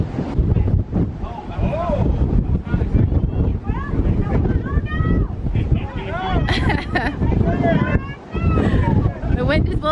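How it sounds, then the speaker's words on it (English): Strong wind buffets the open deck of the Carnival Pride cruise ship near the mini golf area, roaring constantly into the microphone while several people talk and exclaim over it. "it's really windy up here"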